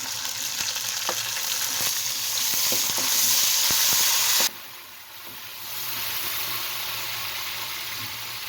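Onions and tomatoes frying in a pan for a tinda gosht curry, a loud, steady sizzle with occasional stirring clicks that drops abruptly partway through, then returns as a softer, even hiss.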